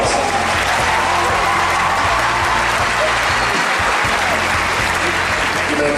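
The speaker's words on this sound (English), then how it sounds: "please give these graduates your applause" Loud, dense applause from a large graduation ceremony audience honoring graduates, a steady wall of clapping that fills the whole stretch without a break.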